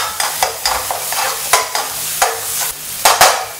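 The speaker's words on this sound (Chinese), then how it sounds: "我现在用大火爆香哦" Aromatics stir-fried over high heat in a wok, a steady sizzle broken by repeated sharp scrapes and clanks of the spatula at uneven intervals, close and loud with no talk.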